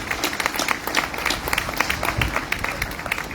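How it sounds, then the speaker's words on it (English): Outdoor rally crowd applauding itself, many people clapping in a busy, uneven patter with sharper individual claps standing out, lively and continuous throughout. "Give yourself a round of applause"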